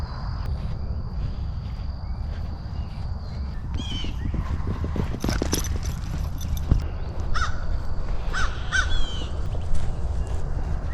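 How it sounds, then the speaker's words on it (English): A crow caws repeatedly while small birds harass it in the Lower Green Swamp Nature Preserve in Lakeland, Florida, the harsh calls mixed with sharper chirps over a steady outdoor backdrop of insects and footsteps. "you're getting attacked by the little birds attacking the big bird"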